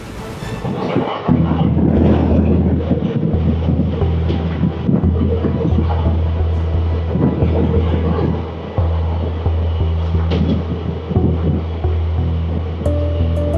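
A train rolls through Kerala in a rail journey with loud steady rumbling, a low engine hum and intermittent rattles and clacks, starting up after a brief quiet opening.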